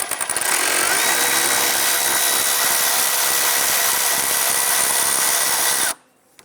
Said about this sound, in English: go ahead, loosen and remove that nut